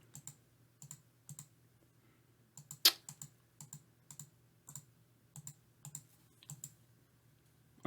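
Repeated clicks on a computer, sharp regular taps in small clusters of two or three at a fairly steady rhythm, close and clear against near silence.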